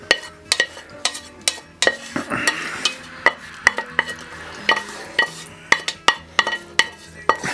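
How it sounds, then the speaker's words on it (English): A spoon scrapes and clacks rhythmically against a pan while stirring ingredients through sizzling mushrooms for a beef and mushroom pie, sharp close knocks over a low frying hiss, no voices. "Let's just stir that through."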